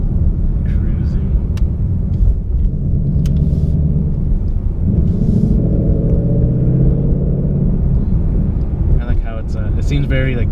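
A 2018 Ford Mustang GT with a Roush resonator-delete X-pipe cruises along, its deep, steady exhaust drone and road rumble filling the cabin, with a few faint clicks.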